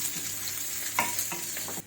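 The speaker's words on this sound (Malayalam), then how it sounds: "എണ്ണ ചൂടായി കടുക് ഇടുകയാണ്." Mustard seeds and garlic sizzling in hot oil in a pan, a soft steady hiss with a few small pops and stirring scrapes.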